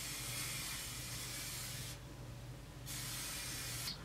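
Hairspray hisses from an aerosol can onto a styled updo in two steady bursts with a short pause between them, close and fairly quiet, with no talking.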